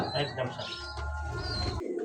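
Pigeons cooing at a busy pigeon market, low throaty coos close by, overlapping with someone talking and background chirps.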